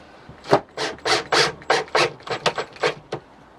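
The string of a homemade diddley bow is wound back up, making about a dozen short, rasping rubs against wood that come in an irregular rhythm, close and fairly loud.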